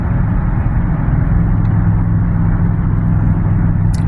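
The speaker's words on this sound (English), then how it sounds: "I'm not trying to push the car too hard because it needs work" A car in need of repair drives along a road at moderate speed, its engine and road rumble forming a loud, steady, low drone heard from inside the cabin with no pauses.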